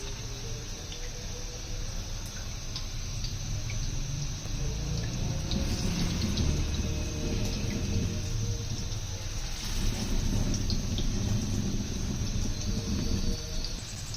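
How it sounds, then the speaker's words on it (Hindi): Chicken shami kebabs shallow frying in a little oil in a frying pan give a steady, close, dense sizzle that crackles evenly throughout with no one talking. "इसको हमने शैलो फ्राई करना है, डीप फ्राई हमने नहीं करना।"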